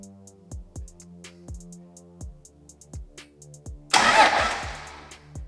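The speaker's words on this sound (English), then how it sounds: "Okay, so we got starter action, that's beautiful." The starter of a Cummins diesel engine swapped into a 1967 Ford F-250 cranks in an engine bay with the fuel shut off. Steady rhythmic cranking pulses under a faint ticking, then a loud burst of broadband noise near the end.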